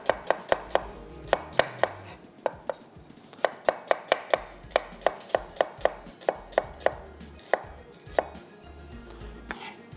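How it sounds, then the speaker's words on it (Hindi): Onions being sliced with a knife on a cutting board: a steady series of sharp, close knife taps at an uneven quick rhythm, clear and alone with no talk. "प्याज को किया स्लाइस"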